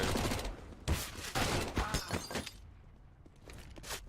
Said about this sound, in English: that was quite the angle from Sliggy on that double grenade